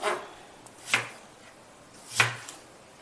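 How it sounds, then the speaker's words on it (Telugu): A knife chopping tomatoes into pieces on a board: three crisp, close chops spaced about a second apart, with quiet pauses between. "అన్నీ ఇట్లా ముక్కలు తరిగి పెట్టేసుకోవాలి"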